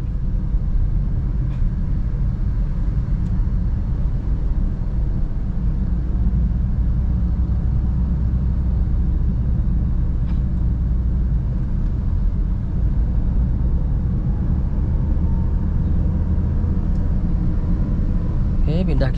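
A car accelerating gently in second gear at low speed, its engine giving a steady, loud, low rumble with road noise throughout and no breaks.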